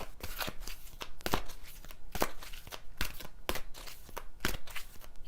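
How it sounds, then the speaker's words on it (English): A deck of cards being shuffled close up, repeated crisp riffling bursts in an irregular rhythm with no talking over it. "You can hear me shuffling"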